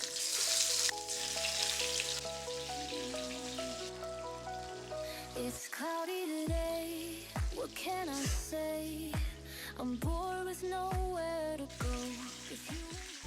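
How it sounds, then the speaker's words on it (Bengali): Fish heads fry in oil for Bengali murighanto, a soft crackling hiss that is strongest at the start and then sits faintly beneath prominent background music. "এই তেলে আমি এখন মাছের যে মাথাগুলো আমি ভেজে নিচ্ছি।"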